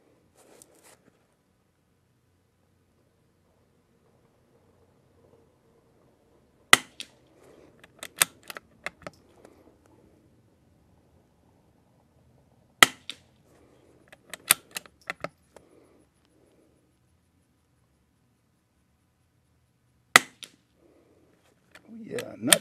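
CZ455 .22 rifle with a 20-inch Lothar Walther barrel firing ELEY Match and CenterX ammunition outdoors: several sharp, widely spaced cracks with a few lighter clicks between them, over faint background murmur.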